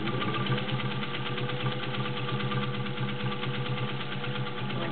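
A Singer 201-2 sewing machine runs steadily with a rapid, even mechanical clatter and motor hum, close and continuous for the whole stretch, with no voices.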